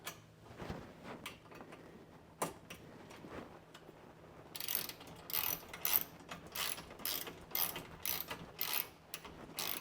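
A hand ratchet tightens bolts on an aftermarket overhead molle console in a Ford Bronco, with scattered metallic clicks at first, then a steady run of rapid ratcheting strokes close by, no talk.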